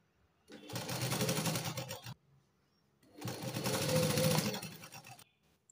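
A sewing machine stitches the lining of a katori blouse in two short bursts of whirring, each about one and a half seconds long, separated by a brief pause. The machine sounds close and fairly quiet.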